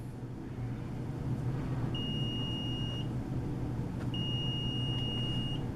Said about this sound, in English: I'm going to set it to the beeping sound